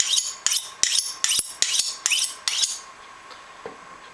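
A small knife cuts through a pepper on a board in seven crisp, evenly spaced strokes about half a second apart, close and clear, before the chopping stops and only faint background remains.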